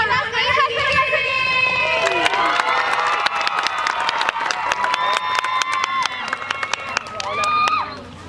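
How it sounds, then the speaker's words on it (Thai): Cheer-stand crowd at a university faculty sports day competition, a dense roar of cheering and shouting voices with whistle-like tonal calls and sharp claps running continuously, loud and close throughout. "ขอเสียงปรบมือกับ"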